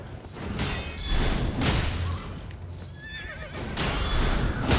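A horse whinnies several times over heavy hoof thuds and rumbling, loud and close, with game-style sound effects in Elden Ring.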